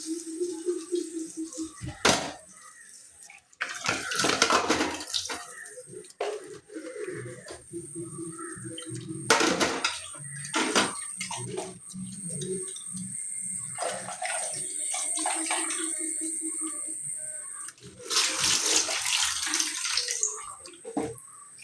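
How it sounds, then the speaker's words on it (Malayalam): Water is poured and splashed into a pan of ground ripe plantain while banana halwa is made, in several separate bursts of running and sloshing water with quiet pauses and faint kitchen clatter between them. "ശകലം കഴുകി ശകലം വെള്ളം കൂടെ ഒഴിക്കാം"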